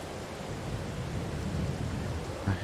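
Steady rain hisses throughout in the video game Farming Simulator 22, with a low rumble of thunder swelling underneath and a brief louder thump near the end, no voices present.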